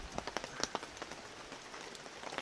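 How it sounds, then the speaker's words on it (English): Rain patters steadily on a tarp stretched over a car, a soft, quiet hiss broken by light, irregular drip taps. "It's raining, and our tarp ripped and broke"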